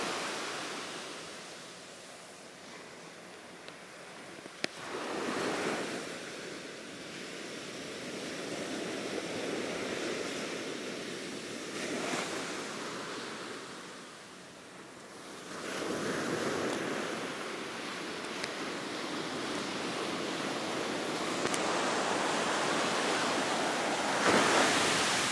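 Ocean waves roll in at Tangalle beach in Sri Lanka at dawn, slow swelling surges of surf every several seconds under a steady wash and light wind, with no talk.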